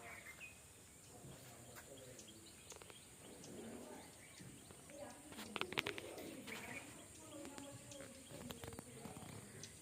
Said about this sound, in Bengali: শত শত হাজার হাজার পাখি, বিশেষ করে ওয়াটার বার্ডস গুলা, ছোট ছোট পাখি।